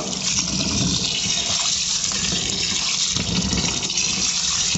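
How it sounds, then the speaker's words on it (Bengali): Basmati rice being rinsed by hand in water, with a steady, continuous wash of running and sloshing water that stays fairly loud throughout and has no talk over it. "চালটা আমি ধুয়ে নেব, হালকা হাতে ধুয়ে নেব।"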